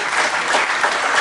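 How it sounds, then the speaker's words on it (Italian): Audience applause backstage at a show: a brief, dense burst of many hands clapping, loud and close, with no talk. "Poi c'è un applauso"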